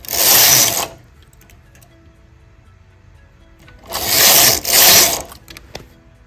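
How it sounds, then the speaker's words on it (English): A domestic knitting machine carriage sliding across the needle bed, knitting rows in a loud mechanical whirring, clattering sweep near the start and two more back-to-back passes later, with quiet gaps between and no talk. "I am going to knit 4 rows in the center."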